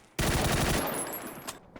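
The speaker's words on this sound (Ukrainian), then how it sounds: "Постріл, чули?" Gunfire in the shooter game PUBG: a sudden loud burst of shots that starts abruptly and rings out with a decaying tail over under two seconds.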